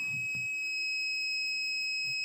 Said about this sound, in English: today we learn about how to make a security alarm using LDR